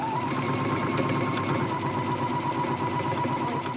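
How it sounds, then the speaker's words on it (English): A sewing machine runs steadily at close range, stitching a straight seam on a fabric face mask with a fast even mechanical whir and needle rattle, no talk. "I'm sewing using the standard seam allowance of 5/8 of an inch, which is just basically following the edge of my presser foot."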